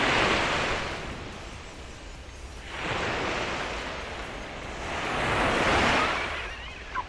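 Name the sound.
sea waves at East Coast Beach, Singapore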